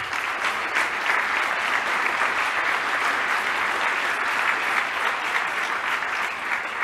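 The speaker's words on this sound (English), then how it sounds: "I would like to ask for a big round of applause for the researchers." Steady, dense applause from a conference audience honoring researchers at a mobility and traffic management event, sustained and even at a moderate level for the whole stretch.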